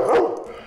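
A therapy dog gives a single short bark on command, close and fairly loud, fading quickly.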